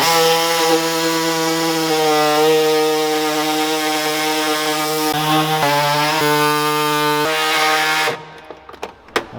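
A power tool trims the widebody fender on a Hellcat, giving a loud, steady buzzing whine close by for about eight seconds before it cuts off into a few sharp knocks.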